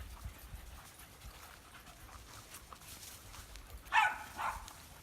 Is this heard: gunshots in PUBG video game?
no